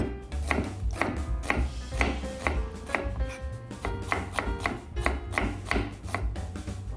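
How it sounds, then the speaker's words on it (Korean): A knife thinly slices cucumber and onion on a cutting board, giving a quick, steady run of crisp chopping taps, close and clear with no talk. "오이와 양파를 얇게 채 썰어주세요."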